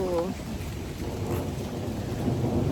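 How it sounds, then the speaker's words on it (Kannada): Heavy rain pours steadily during a stop for lunch before a wildlife safari near Mysore, with a low rumble that may be distant thunder and a brief voice at the start. "ಸಿಕ್ಕಾಪಟ್ಟೆ ಮಳೆ ಬರ್ತಿದೆ"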